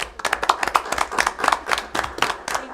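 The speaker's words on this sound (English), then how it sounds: "we'd give her a round of applause" Hands clapping in a meeting room, a small group giving a brief round of applause with distinct, uneven claps close by.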